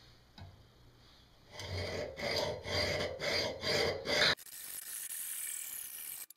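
A hacksaw cuts through the metal support bar of a gas generator during a propane kit installation, giving a close, steady run of about seven rasping strokes before it stops and a softer hiss remains.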